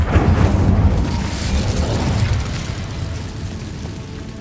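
Incendio fire spell from Hogwarts Legacy, a loud, dense fiery burst and roar that holds steady for several seconds, heavy in the low end.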